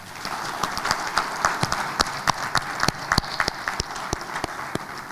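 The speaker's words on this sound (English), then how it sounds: "please give yourselves a round of applause" Conference participants at a peace leadership convention in Nigeria applaud themselves, a dense steady clatter of many hands with sharper individual claps standing out, moderately loud and alone without talk.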